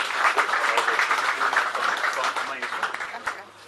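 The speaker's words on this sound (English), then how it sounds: "So please just give him another round of applause." An audience at the South African carp fishing championship prize giving claps in a brief round of applause, a dense even patter that thins toward the end, with voices talking over it.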